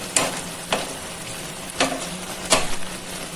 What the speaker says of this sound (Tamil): இடையில கொஞ்சம் ஓரளவு கிண்டி விட்டுக்கணும் அடியில் பத்திராத அளவுக்கு